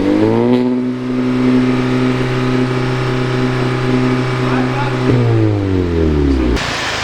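A Skoda Octavia fitted with a turbo-back exhaust gives a deep, bassy engine drone up close. It holds a steady note, then the pitch shifts twice near the end as the revs change.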